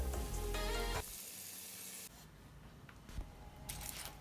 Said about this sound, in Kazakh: Қалған самосаларды дәл осылай қуырып аласыздар.